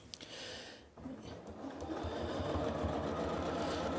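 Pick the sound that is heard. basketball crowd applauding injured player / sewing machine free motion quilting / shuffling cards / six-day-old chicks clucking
sewing machine free motion quilting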